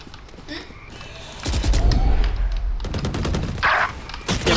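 Rapid gunfire bursts in Valorant, a tactical shooter match, crack out loud and dense from about a second and a half onward, with repeated shots and a brief high effect near the end over game background noise.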